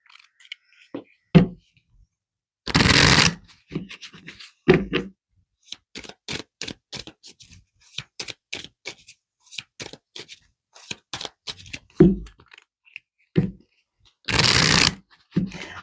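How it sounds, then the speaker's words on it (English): Tarot cards handled and shuffled at close range, with two bursts of riffling, crisp flicks and taps, and scattered soft snaps between quiet pauses. "Let's pull some more cards here for you."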